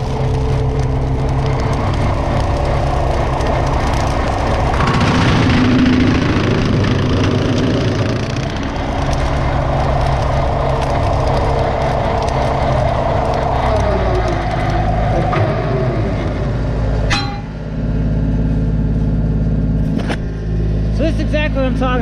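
A tractor fitted with a custom brush cutter cuts through small trees one to two inches thick, its engine running steadily and loudly throughout with a shift in load partway through.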